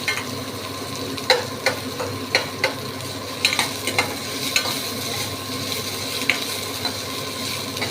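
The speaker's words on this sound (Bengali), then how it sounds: "পেঁয়াজটা দিয়েছি তো গ্যাসটা বাড়িয়ে দিলাম দিয়ে এবারে ভাজবো" Onions frying in oil in a pan over raised heat, a loud continuous sizzle broken by repeated sharp scraping and stirring clicks of a spatula against the pan.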